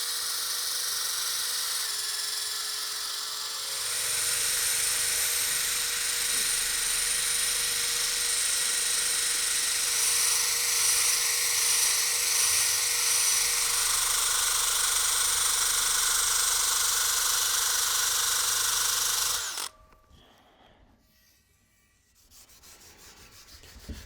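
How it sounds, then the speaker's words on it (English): A power drill spins a wire brush against a 1955 Crescent band saw wheel, removing built-up adhesive, a loud, steady abrasive whir lasting about twenty seconds before cutting off into quiet. "I'm gonna grab a wire brush and a drill, and we're gonna remove some of this built-up adhesive."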